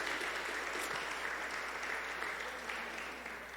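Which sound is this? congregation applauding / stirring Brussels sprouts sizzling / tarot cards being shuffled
congregation applauding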